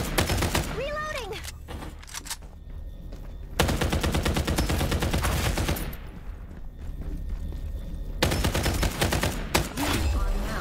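Rapid automatic gunfire in the video game Farlight 84, loud and nearly continuous in long bursts with brief pauses, under game sounds and a few short voice calls.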